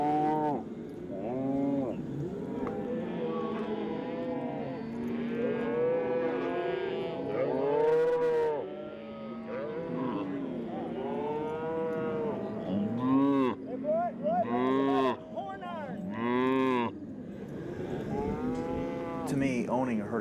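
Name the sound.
cattle mooing on a ranch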